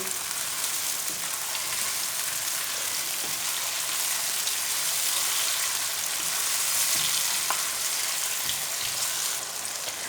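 Eggplant, tomatoes and whole green chillies fry in a pan, giving a continuous loud sizzle with small crackles and occasional stirring scrapes throughout, no talking.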